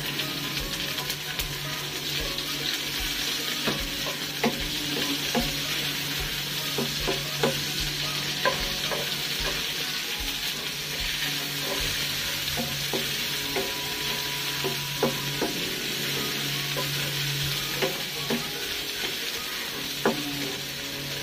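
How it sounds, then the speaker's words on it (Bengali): Chopped onion fries in a pan for a Bengali eggplant bharta, a continuous close sizzle broken by frequent scraping and tapping strokes of a spatula as it is stirred, with no talking. "এবার দেব পেঁয়াজ কুচি"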